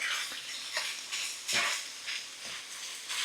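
Keto ground beef with mint and ginger sizzles in a pan as a spoon stirs it, with repeated scraping strokes over a continuous fizzing fry.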